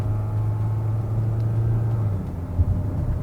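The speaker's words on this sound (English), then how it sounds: "when you hear that diesel noise, it's not really intrusive, guys" A SsangYong Korando crossover's diesel engine works under throttle at highway speed, a steady low drone and rumble heard from inside the cabin, muted and continuous with a slight swell near the end.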